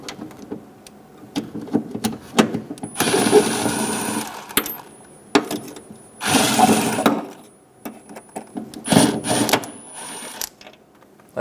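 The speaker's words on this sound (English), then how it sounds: "Using an 11mm socket, remove the 3 bolts for where the arm connects to the wiper transmission arm." 11mm socket on a ratchet removing the wiper arm bolts on a 1988-1999 GMC K1500, with scattered metallic clicks and clanks and several longer bursts of ratcheting, close by with no talk.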